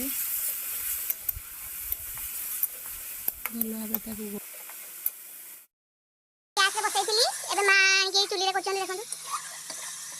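Chicken masala with onions frying in a pan is stirred, giving close sizzling and scraping for several seconds. After a short break, a person talks over the cooking.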